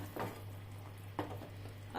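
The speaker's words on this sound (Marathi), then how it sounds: "पाकाला आपल्या उकळी पण यायला लागली आहे।" Sugar syrup for gathi bubbles over a medium flame, giving a soft, faint simmering hiss broken by a few gentle bursts of bubbles, with a low steady hum in the background.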